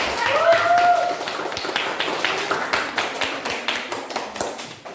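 Classroom of students clapping for student groups after a lesson, a short burst of scattered hand claps that settles into uneven individual claps, with a brief voice at the start.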